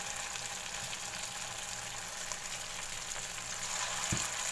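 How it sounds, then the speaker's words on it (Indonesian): Tofu batter hitting hot cooking oil in a pan over a medium-low flame, giving a steady, quiet hiss of frying with a brief soft knock near the end. "Ini minyaknya sudah panas ya teman-teman. Sekarang Bunda tuang."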